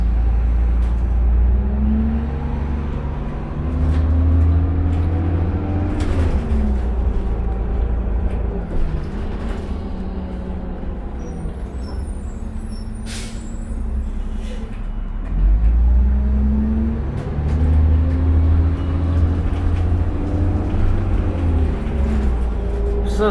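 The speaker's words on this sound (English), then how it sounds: "You're wasting diesel, but what you gotta do, you gotta warm the engine up, right?" A 2002 New Flyer D40LF diesel transit bus idles while warming up, a steady low engine drone that swells and eases in slow cycles with faint rattles over it.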